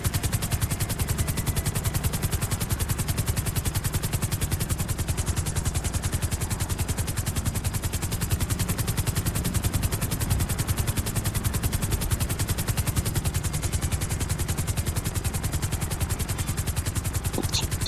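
Sustained automatic gunfire fills a gang attack at an aircraft junkyard in GTA Online, a dense, steady rattle of shots running the whole stretch, with a helicopter-like drone beneath and no talking.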